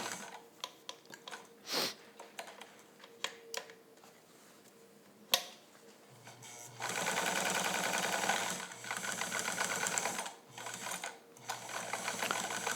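Restored Necchi Supernova BF sewing machine running a long-length stitch through six layers of fabric, a fast steady mechanical whir building after scattered clicks and handling noises, rising and pausing briefly before continuing.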